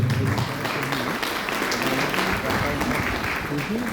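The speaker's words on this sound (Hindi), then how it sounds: "एक बार उनके लिए जोरदार ताली हो जाए" An audience at a business gathering claps for about four seconds, with steady dense applause and a voice speaking over it.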